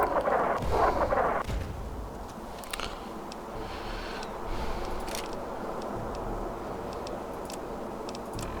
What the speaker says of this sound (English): we can't necessarily go across because missiles being flown everywhere